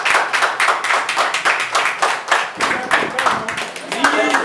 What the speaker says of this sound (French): On peut applaudir, vous êtes contents?